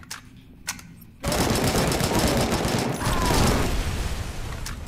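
Heavy gunfire in RoboCop: Rogue City, starting abruptly after a few isolated clicks and sustained as a loud, dense stream of rapid automatic shots close by.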